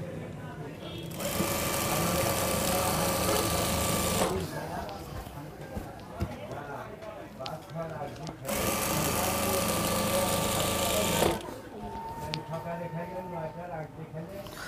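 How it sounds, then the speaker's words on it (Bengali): A sewing machine top stitching a Panjabi garment runs in two long, loud, steady bursts of rapid whirring, with quieter handling and someone speaking between them. "এখন চাপ সেলাই দেবো"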